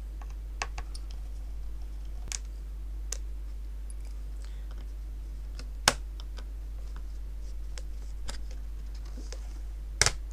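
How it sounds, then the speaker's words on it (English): A screwdriver loosens the screws on a laptop cover, giving faint, scattered clicks and ticks, with a few sharper snaps, over a low steady hum. "Now I will remove the cover with a screwdriver."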